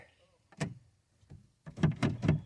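A 2013 Kia Rio's power door locks actuate in a quiet garage-like setting: a sharp single clack, a faint pause, then three quick mechanical thunks in close succession, near and dry.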